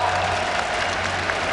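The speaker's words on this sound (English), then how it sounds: "Definitely a very big crowd here in Hall 8 at Gamescom." A very big crowd in Hall 8 at Gamescom, watching a League of Legends esports match between Fnatic and Curse, sends up a steady, dense wash of cheering and applause.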